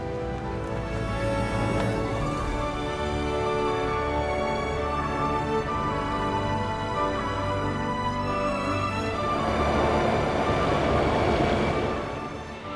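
A loud, continuous rumbling rush of a passing Wuppertal suspension railway train, with sustained metallic tonal whine and broadband roar rising again toward the end.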